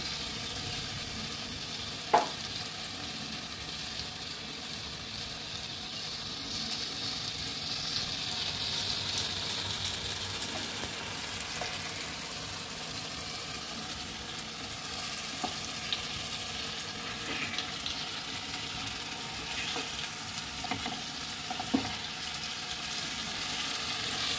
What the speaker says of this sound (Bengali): আর 5-6 মিনিট ধরে আমি ওলট পালট করে একটু লাল লাল করে পিসগুলোকে ভেজে নেব।